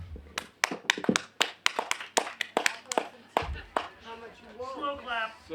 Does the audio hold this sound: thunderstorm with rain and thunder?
no